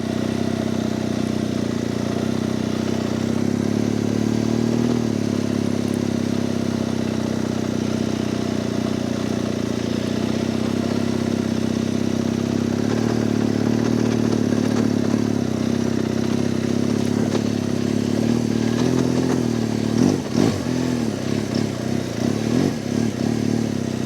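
A motorcycle rides along while towing a dead motorcycle on a big, soft tow strap, its medium engine droning steadily throughout with a few uneven revving pulses near the end.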